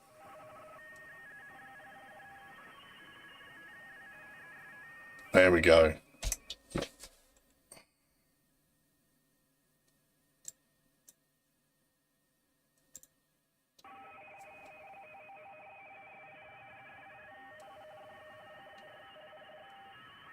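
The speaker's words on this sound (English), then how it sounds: "It's radio teletype, so you know, it kind of does sound like a Commodore 64." A radio teletype data signal received on the 3.5 MHz amateur band during a contest produces steady warbling tones. It fills the first few seconds and returns later, quiet and alone, broken by a loud clatter of clicks and near-silence in between.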